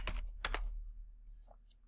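A few quick keystrokes tap on a computer keyboard, close and faint, then a couple of lighter clicks follow in a quiet room.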